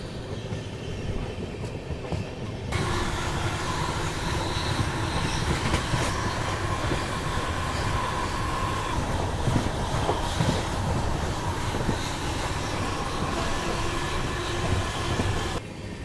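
A passenger train runs on rails through rural Maharashtra amid orange farmland, a steady loud rumble with rhythmic wheel clatter and faint squeals throughout, heard from onboard.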